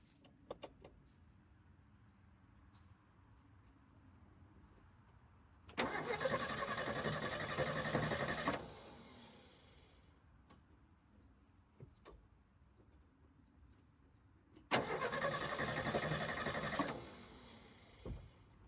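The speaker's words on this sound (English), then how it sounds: "We're going to see if this thing will turn over now." An old rusty engine with no gas cranks over twice, each burst of steady starter churning lasting a few seconds, with quiet pauses and small clicks between, close by and without talking.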